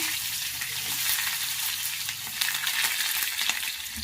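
Chopped onions fry in hot oil in a pan, a steady close bright sizzle with occasional stirring scrapes and no talking.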